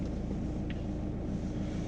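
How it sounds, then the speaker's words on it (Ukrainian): A car engine idling in winter after the driver shifts to neutral, a steady low droning hum that stays even and close throughout. "Хай двигун трошки попрацює і все."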